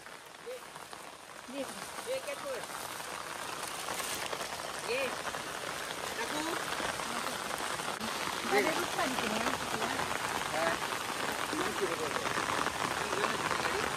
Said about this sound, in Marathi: बघा पाऊस केवढा भरलाय बघा.